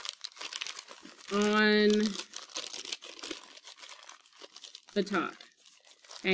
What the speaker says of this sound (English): You are crumpling up the paper.